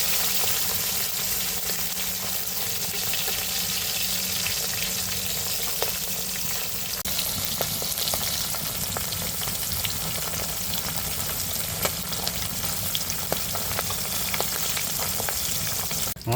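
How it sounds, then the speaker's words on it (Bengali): Pond-caught rupchanda fish deep frying in oil at a village picnic, a loud continuous crackling sizzle held close and steady throughout, with occasional sharper pops and faint stirring. "কড়া ভাজা হয়ে গেছে ডুবো তেলে তো"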